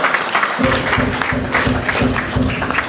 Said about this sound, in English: Clap for yourselves, women, if you're here.